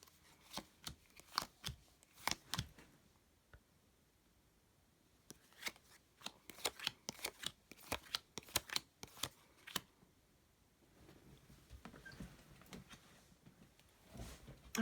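Tarot cards are shuffled in quiet bursts of crisp, rapid riffling and snapping, with pauses between rounds, close and fairly faint.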